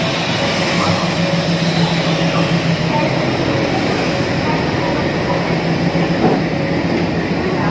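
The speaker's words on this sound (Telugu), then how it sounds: "ట్రైన్ అయితే ప్లాట్ఫామ్ అయితే వస్తుంది." A passenger train, the Visakhapatnam Nizam Swarna Jayanti Express, rolls into a station platform with a dense, steady rumble of wheels and carriages that stays loud throughout, with faint voices in the background.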